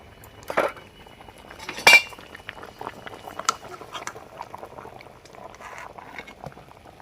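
A pot of boiled green bananas comes off the stove with sharp metallic clanks of the pot and utensils, then quieter clinks and rustles with soft bubbling in between.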